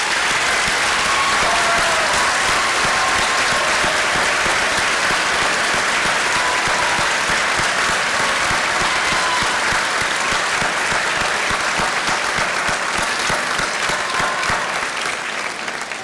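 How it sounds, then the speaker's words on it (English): A large commencement audience at Owensboro Community & Technical College claps loudly and continuously, a dense, sustained ovation that only tails off near the end. "let's give these folks a big round of applause"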